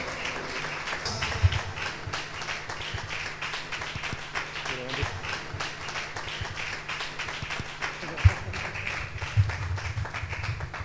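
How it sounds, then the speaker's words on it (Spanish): A church congregation claps for brother Florentino, a continuous spread of hand claps with a few louder individual claps rising above it, while a voice speaks over the crowd. "Denle un fuerte aplauso."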